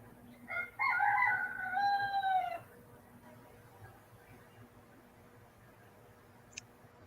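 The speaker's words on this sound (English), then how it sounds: "And you know what that rooster's saying" A rooster crows once at fairly close range, a long harmonic call with a few short cackling notes before it, over a low steady background hum, followed by several seconds of quiet with a faint click near the end.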